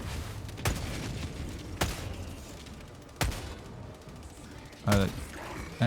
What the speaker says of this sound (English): it's shooting at me